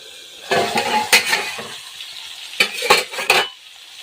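Chopped bitter gourd (karela) gets stirred in a pan, with bursts of spatula scraping and metallic clinks over a low sizzle, two clusters of busy mixing separated by a quieter pause.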